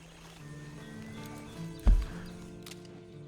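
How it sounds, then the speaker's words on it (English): A horse in the Red Dead Redemption 2 video game, with faint hoof movement under low background tones and one sharp snort or short whinny near the middle of the clip. "And you better get on this horse."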